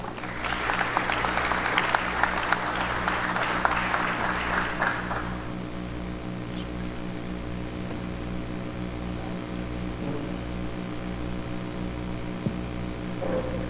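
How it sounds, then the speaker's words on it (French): Applause from a crowd at a conference in Haiti, loud and dense for the first few seconds, then fading to a steady electrical hum with faint room noise. "Madame Michelle Seyssan, sous vos applaudissements."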